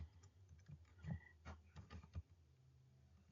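Fingers tap quickly on a computer keyboard, an irregular burst of soft clicks close by.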